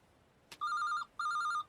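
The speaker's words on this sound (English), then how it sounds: "Is that a car phone?" A car phone rings in an anime scene, two clear electronic trilling bursts after a brief click, loud and close with nothing else heard.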